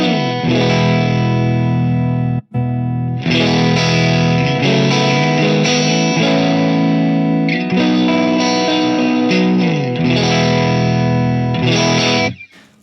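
Electric guitar on a near-clean FM3 ODS-100 amp model with the mids cut, strummed chords ringing with slight grit and chorus-like shimmer; loud and close, with one short pause early on and a fade at the end.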